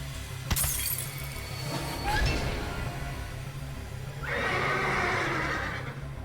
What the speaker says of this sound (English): That weird ending of a horse sound that they are using for this